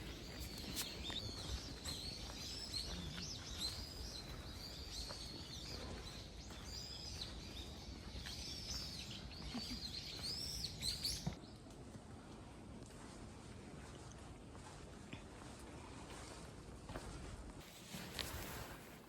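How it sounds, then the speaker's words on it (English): Faint bird chirps and tweets scattered through steady outdoor ambience in a bamboo forest in Kyoto, with occasional footsteps and light background noise; no close voices. "Peaceful with the birds chirping."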